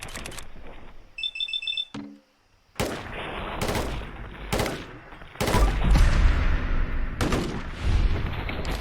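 Sharp gunshots in Fallout 4 on Survival difficulty in the Glowing Sea: a beeping alarm tone, a brief pause, then heavy repeated shots, loud and close, spaced about a second apart with rumbling tails.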